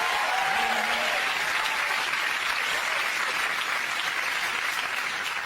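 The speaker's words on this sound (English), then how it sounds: "I'll give him a round of applause again" A studio audience at a comedy panel show applauding in a dense, even wash of clapping that holds steady throughout with no break.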